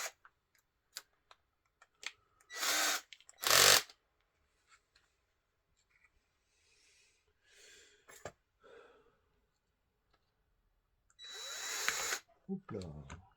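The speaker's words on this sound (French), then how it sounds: "mèche de 3, mèche de 4 pour le contreperçage" Drill boring counter-holes with 3 mm and 4 mm bits, several short loud whirring bursts separated by pauses, with quiet clicks and handling noises between them.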